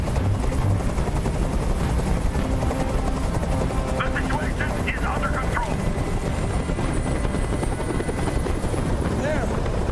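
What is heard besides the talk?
helicopter hovering, from the video game Detroit: Become Human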